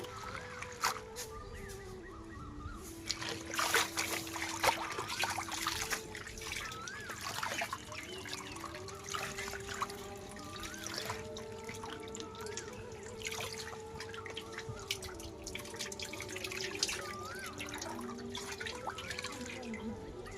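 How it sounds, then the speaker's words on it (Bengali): Malabar spinach leaves being rinsed by hand in a basin of water, with steady trickling and splashing through the clip, fairly close, alongside ongoing speech and background noise. "3-4 বার করে হচ্ছে পানি পাল্টে পাল্টে ধুয়ে নিব"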